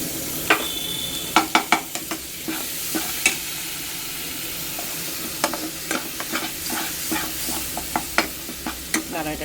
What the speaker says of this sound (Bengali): এটা একটু নাড়িয়ে নিই।